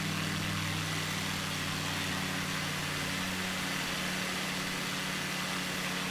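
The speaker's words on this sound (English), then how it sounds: "So I'm going to keyboard control down the engine" In a flight sim game, the engine of an A5 amphibious plane drones faintly and steadily, with its tonal hum easing down partway through.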